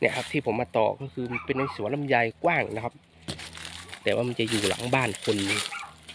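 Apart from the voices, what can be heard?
dog barking behind a house near a longan orchard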